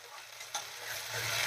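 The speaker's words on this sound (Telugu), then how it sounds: "అలాగే టమాటా ఆలు కూడా వేసేసుకుందామండి ఇవి లైట్గా కొంచెం ఫ్రై కావాలి" Tomato and potato fry lightly in a pan, a soft continuous sizzle with a quick stirring scrape partway through, faint and brief.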